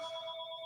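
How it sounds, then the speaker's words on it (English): A telephone rings briefly, a faint steady electronic tone heard on its own in a quiet room. "That's the phone right there."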